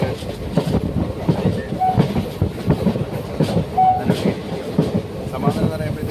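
A passenger train on the Karunagappally to Tenkasi line rolls along with steady rhythmic clickety-clack of wheels on rail joints, heard from inside the carriage with a constant rumble.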